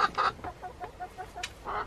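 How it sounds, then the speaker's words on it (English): Chickens cluck in short, scattered bursts inside a coop, close and moderately loud against a quiet background. "The chickens are all still in here."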